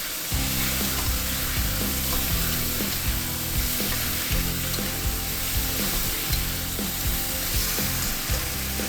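Pork belly and potato slices stir-fried in a wok with soy sauce and oyster sauce, giving a steady loud sizzle with repeated rhythmic scraping and tossing strokes of the spatula throughout, no talking.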